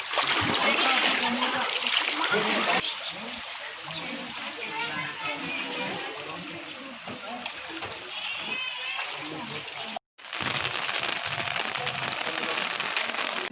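Water splashes and flows steadily, with voices talking over it throughout; there is a brief dropout near the end before the running water resumes.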